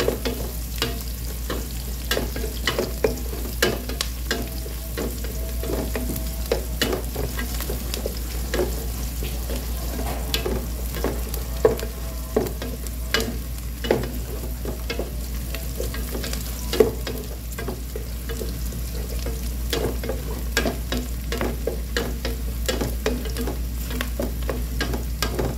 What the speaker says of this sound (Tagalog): Lutuin lang natin ng konti ang sibuyas mga boss para lumabas yung aroma.